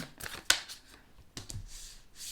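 Tarot cards shuffled by hand, a quick sharp riffle followed by softer papery slides and flicks, close and quiet.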